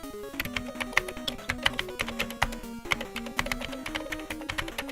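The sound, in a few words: keyboard typing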